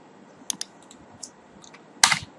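Keys clacking on a computer keyboard while a search for a Materialize menu CSS navbar is entered, a few isolated taps early on, then a louder quick burst near the end, close and alone with no voices.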